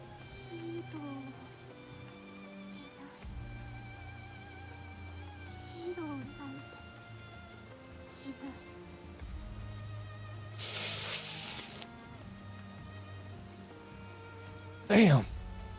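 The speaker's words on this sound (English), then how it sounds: "Villain walks off, leaving her behind in the rain." Steady rain patters through a NIKKE video game cutscene, a soft continuous wash beneath music with a couple of brief sharper noise bursts.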